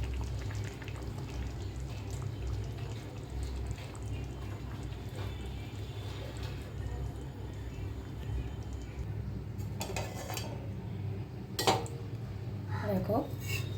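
Assamese fish curry moves from pan to bowl with soft metal clinks and scrapes of a spoon against cookware over a low background hum, with a few sharper knocks near the end.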